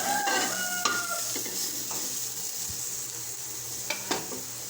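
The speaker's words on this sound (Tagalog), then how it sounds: "Paggisa lang ng sibuyas at bawang." Onion and garlic sautéing in a pan for pork adobo, a steady soft sizzle with occasional stirring clinks and scrapes, close and fairly quiet, with a faint rooster crowing in the background.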